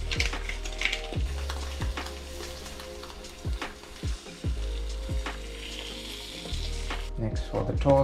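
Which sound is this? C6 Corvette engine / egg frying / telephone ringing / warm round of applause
egg frying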